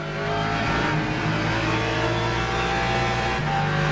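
Race car engines in Le Mans Ultimate drone loudly and steadily, a rich harmonic whine holding near constant pitch with slight shifts, close and continuous with no talking.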